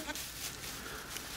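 A baby goat bleats briefly on a farm, the call soft and close against a faint background hum.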